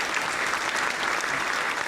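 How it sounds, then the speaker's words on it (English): Crowd clapping plays as a sound effect in a social VR space: dense, even applause, steady and moderately quiet throughout, with no talking over it. "Can we get a crowd clap?"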